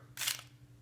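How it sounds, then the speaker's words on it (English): A stack of custom playing cards being bridge shuffled: one short, crisp riffling burst of card edges lasting a fraction of a second, close and clear over a low steady hum. "Bridge shuffle it here."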